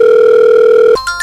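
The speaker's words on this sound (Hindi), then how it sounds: "अरे बंदर भाई का फोन" A telephone tone sounds loud and steady for about a second and then cuts off into a few brief electronic blips.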